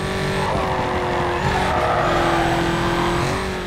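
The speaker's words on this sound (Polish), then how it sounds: "moja korweta przyspiesza teraz lepiej" A Corvette accelerates hard during a canyon race in Need for Speed Carbon, its engine a loud, continuous rising roar with steady harmonic drone and a tire squeal, close and alone with no talk.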